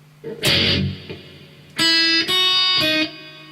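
Three distorted electric guitar phrases, a short buzzy burst followed by two sustained chords, played up close with brief gaps between them.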